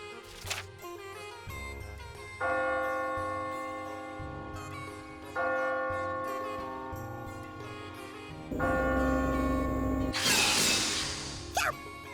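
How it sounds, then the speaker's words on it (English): A bell rings at a train station in The Witch and the Hundred Knight, tolling in sustained metallic strikes that ring out and fade, with bursts of game effects between them. "What's that bell?"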